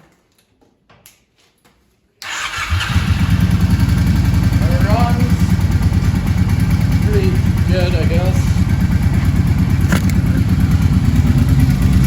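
After a few faint clicks, a rebuilt motorcycle engine starts and settles into a loud, steady idle with a rattling, ticking chug; a voice speaks briefly over it.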